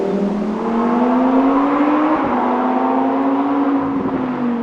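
A Lamborghini Huracan EVO rear-wheel-drive engine drones steadily from inside the cabin on a Black Forest road, a loud sustained tone rising slowly, dipping briefly, then settling again, with no voices.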